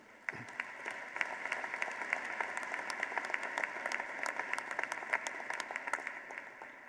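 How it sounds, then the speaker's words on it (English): Steady applause from a commencement audience honoring the class of 2018 at a university graduation ceremony, dense clapping sustained throughout at moderate level with a few sharper claps standing out. "Let's honor them one more time with a great round of applause, please."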